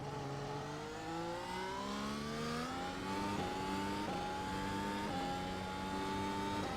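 An F1 race car in the iRacing sim at the Austrian Grand Prix climbs through its revs, its engine pitch rising in repeated surges cut by quick upshifts, loud and continuous.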